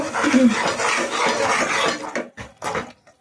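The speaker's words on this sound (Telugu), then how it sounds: "ఇలా మొత్తం బాగా కలుపుకోవాలి" Beef gongura curry is stirred in a pot, with a continuous clatter of a metal spoon scraping and knocking against the vessel, breaking into a couple of separate clinks toward the end.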